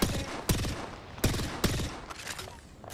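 Sharp gunshots in the Apex Legends battle royale game ring out in an irregular series of loud single cracks, with quieter shots scattered between them.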